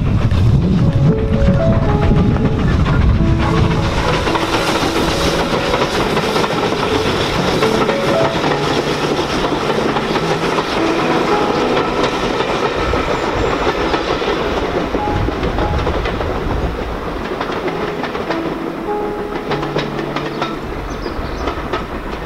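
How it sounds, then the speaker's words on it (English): A steam train on the heritage railway at Corfe Castle rumbles past close by, loud and continuous with rhythmic wheel clatter and rail noise that fades gradually toward the end. "the train went past and it's a steam train that's running today"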